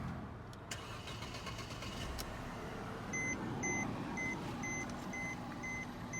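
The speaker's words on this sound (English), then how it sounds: "let's start the car" A Mercedes C250 AMG engine turns over and settles into a steady low idle, with intermittent electronic beeps chiming repeatedly in the background.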